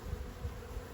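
Honey bees buzzing around a backyard garden hive, a steady low droning hum with slight swells as insects pass close, heard alone for about a second.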